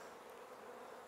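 Honey bees hum softly around hive frames during queen rearing, a faint, steady and continuous buzz with no voices.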